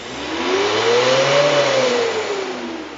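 Car engine revved hard for a black smoke emissions test, a single smooth rise and fall in pitch lasting about three seconds, loud and close with no voices.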